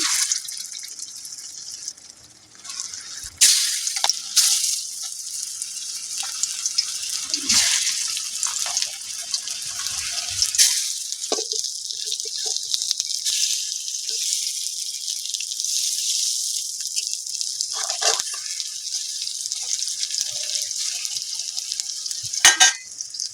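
Pumpkin flower fritters, bazra style, frying in hot oil, a steady high sizzle over a long stretch, broken by scattered spatula clicks, scrapes and bubbling flare-ups.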